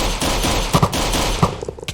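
Rapid bursts of gunfire from a weapon in the video game Minecraft crackle through a dense, noisy game soundtrack, with several sharp shots standing out over roughly two seconds.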